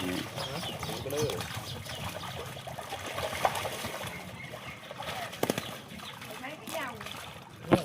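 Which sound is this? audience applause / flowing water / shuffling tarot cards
flowing water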